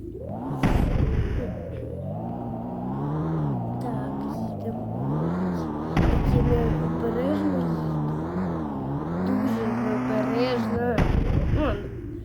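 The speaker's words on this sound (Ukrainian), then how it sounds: "візьмемо машину, щоб поїхати кудись" Car engine from the Deeeer Simulator video game, a steady droning hum that rises and falls in pitch as it accelerates and eases off, with a few sharper bursts, continuous and fairly loud throughout.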